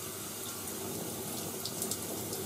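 Steady shower water runs under a bathroom showerhead, a continuous broadband hiss of spray held at an even level throughout with no talking.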